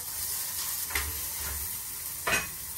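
Chopped onion goes into a hot pan of lentil dal with dried chilli and coriander leaves, setting off a steady close sizzle with a couple of brief louder hissing surges.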